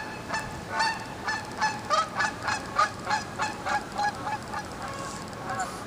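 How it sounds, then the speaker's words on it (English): A flock of geese honks in a steady run of repeated calls, moderately close and continuing throughout with no talk over them. "Geese"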